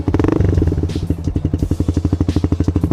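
A small, stock 150 cc motorcycle engine runs loudly close up, with a rapid, steady putter after a brief rev at the start.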